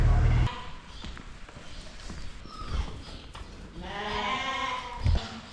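Sheep unloaded back home on a farm bleat in several long wavering calls, one loud and close near the end, over a background of shuffling hooves and movement, with a brief low thump at the start.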